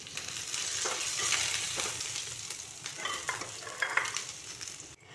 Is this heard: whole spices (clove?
yes